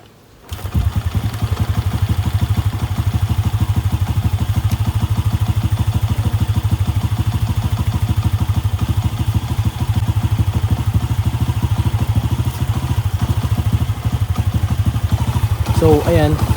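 Honda Wave 125 motorcycle engine idling with the air cleaner fitted, a steady close low putter that runs evenly throughout, starting right after a brief silence at the start.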